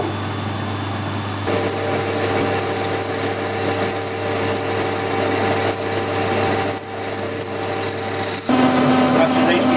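A freshly sharpened drill bores into metal stock on a lathe, making a loud, continuous whirring grind that keeps an even rhythm and shifts to a higher, ringing tone near the end.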